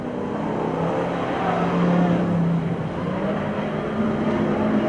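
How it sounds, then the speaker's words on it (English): A race car running on a flat tire drones steadily nearby at Merced Speedway in 1989, with a rough, flapping rumble, loud and continuous with no talking. "That's the Aaron Barker with a flat tire out there that's making all that noise."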